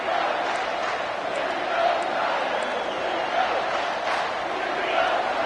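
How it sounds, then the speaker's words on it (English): A packed football stadium crowd at a Georgia game roars continuously, a dense sustained cheer backing the defense with faint whoops rising out of the din. "Listen to this crowd just shaking the girders of this place, trying to help their defense."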